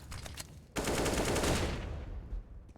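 FAMAS gunfire rattles on the Mirage map in Counter-Strike. Faint shots come first, then a loud, close burst of rapid fire that trails off with some scattered distant shots.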